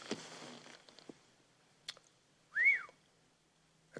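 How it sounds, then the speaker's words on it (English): A person whistles by breathing in, giving one short, rising-and-falling whistled note after some faint rustles and clicks, close and fairly quiet. "if I could whistle, I'd whistle"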